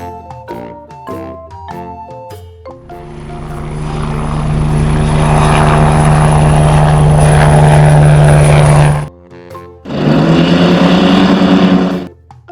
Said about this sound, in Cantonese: H helicopter 直升機。